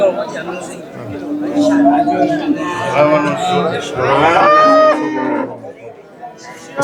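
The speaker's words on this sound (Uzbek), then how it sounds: "Sigir ham chiroyli sigir ekan" Cows at a busy cattle market, with a few loud, drawn-out moos rising over constant crowd chatter and nearby voices.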